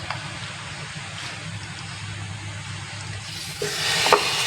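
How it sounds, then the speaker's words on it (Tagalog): Marinated pork spare ribs sizzle steadily in a hot pan, a constant frying hiss with a louder crackling surge near the end as more meat goes in. "ilalagay na natin ang ating na-marinate na spare ribs"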